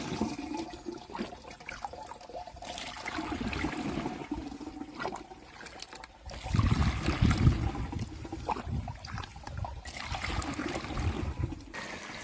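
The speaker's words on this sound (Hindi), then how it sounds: "थोड़ा पानी भी डाल लेते हैं." Water is poured into a farm spray pump tank, splashing and gurgling steadily and growing heavier partway through, with no talk.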